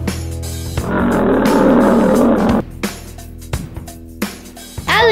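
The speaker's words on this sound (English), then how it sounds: "Lion." A lion roars in a long, loud, rough sustained bellow, followed by a few shorter grunting calls and a final rising growl, with no talking.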